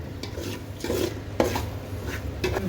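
A pan of peas and spice mix being stirred over a low flame while making tomato rice, with steady scraping and rubbing strokes, a few sharper scrapes standing out, close and with no talking.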